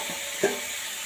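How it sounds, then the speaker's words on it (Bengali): A steady sizzling hiss of greens frying in a pan, with one brief stir or clink partway through. "শাক ভাজাটা প্রায় হওয়ার পথে"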